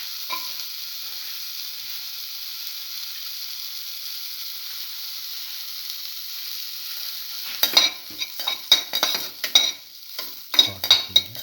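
Ginger in a pan hisses with a faint, even sizzle for several seconds before stirring begins, bringing rapid clattering scrapes and louder bursts of frying, close by.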